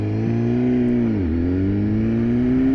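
A 2015 BMW S1000RR motorcycle engine drones loud and steady at freeway speed, its pitch dipping briefly then climbing again, with heavy wind rush mixed in.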